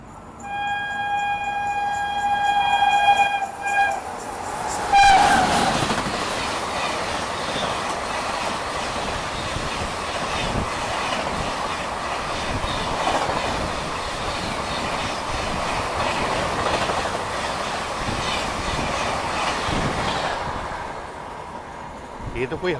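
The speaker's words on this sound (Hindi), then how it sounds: "ये तो कोई हमसफ़र एक्सप्रेस निकली।" A Bhagalpur–Ajmer Humsafar Express passing on the adjacent track while riding a twin diesel special train: a sustained rumble of wheels and carriages, loud and close, with rhythmic clatter and a brief squeal, under occasional talk.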